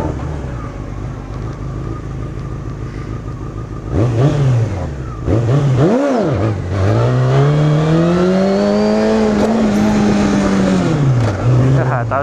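A car doing a burnout on a wet surface outdoors: the engine revs up and down in rising and falling sweeps, loud and close, with hissing spray underneath.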